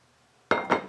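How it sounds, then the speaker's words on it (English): A lid comes off a bowl of water-soaked cardboard being prepared for growing oyster mushrooms, giving two quick, close clinks in succession after a moment of near silence. "We're gonna remove the lid from the bowl."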